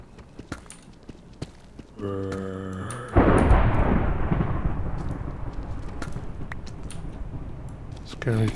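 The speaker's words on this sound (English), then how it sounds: "Scary thunder." Thunder in a Minecraft-style mining game rolls in as a loud, sustained broadband rumble that erupts suddenly and slowly fades over several seconds, preceded by a brief tonal chime.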